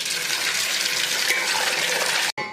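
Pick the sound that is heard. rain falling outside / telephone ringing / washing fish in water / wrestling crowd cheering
washing fish in water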